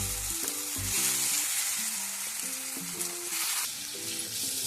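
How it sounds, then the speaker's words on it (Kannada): Raw mango pieces fry in oil in a pan with a steady, loud sizzle throughout, partly under background music. "ಹುರಿದಿರೋದು ಮಾವಿನಕಾಯಿ ಹುರ್ಕೋಬೇಕು."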